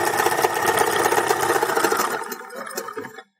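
A sewing machine stitches fringe onto a dance skirt, running loud and close in a fast continuous whir that slows near the end before stopping abruptly.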